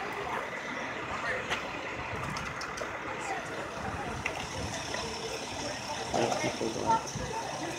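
Tow trucks haul crashed cars away from an accident scene in Niles, Illinois, heavy engines idling and rumbling at a distance with occasional clanks and a rising mechanical surge near the end, under faint outdoor talk.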